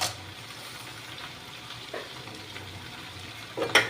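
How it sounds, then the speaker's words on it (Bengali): Lentil dumplings (bori) fry in hot oil, giving a faint, steady sizzle throughout with a few brief louder clatters near the end. "আমি তেলের ওপরে বড়িগুলো ভেজে নিচ্ছি"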